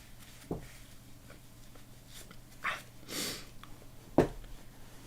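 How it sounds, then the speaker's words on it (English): A person with a croaky cold blows their nose in a quiet room, with a few soft sniffs and short, breathy snorting bursts spread out, one longer rushing blow in the middle. "blow my nose."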